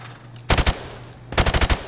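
Two short bursts of rapid automatic gunfire fired from the hip in Call of Duty: Modern Warfare Remastered, each a quick string of loud, close shots separated by a brief pause over a low game hum.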